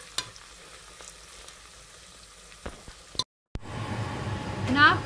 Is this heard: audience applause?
no